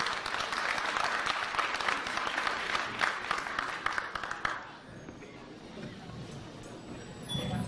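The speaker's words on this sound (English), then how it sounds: "Let's give them a round of applause." A crowd at a golden wedding anniversary celebration claps for the couple in a dense burst of applause that fades out after about four seconds, followed by quieter room murmur.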